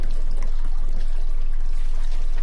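Dirty water gushes out of a drain in a steady, loud, continuous pour with a constant low rumble beneath it, and no voices.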